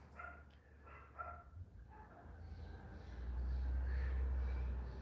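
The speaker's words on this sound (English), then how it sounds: "wouldn't be a live stream unless the dog started going off, right?" A dog barks a few times in quick, faint bursts, somewhere off in the distance indoors. Then the barking stops and a low steady hum builds.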